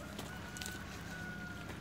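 A chicken clucks faintly at a distance over a steady outdoor background, in a brief quiet moment.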